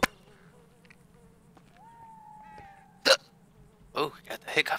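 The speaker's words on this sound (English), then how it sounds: "Hiccups." Someone hiccups in a quiet indoor setting, one sharp hiccup followed by a cluster of short, abrupt hiccup bursts near the end, over faint background hum with a thin whistling tone in between.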